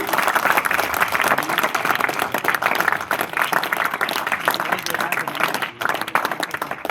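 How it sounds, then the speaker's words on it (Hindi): Loud, sustained applause from a crowd welcoming guests at a public school event, dense clapping throughout with a brief dip partway, close and without talk. "एक बार इनके स्वागत के लिए जोरदार तालियां हो जानी चाहिए।"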